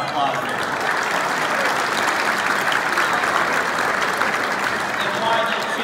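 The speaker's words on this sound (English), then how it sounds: "Let's give ourselves a round of applause here." Sustained applause from a large chamber of commerce annual dinner crowd, many hands clapping evenly and loudly for several seconds, with faint murmuring voices mixed beneath.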